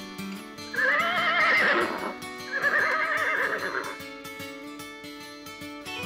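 A horse neighing twice in quick succession, loud and near, the whinnies rising and falling over faint background music and light clip-clop sounds.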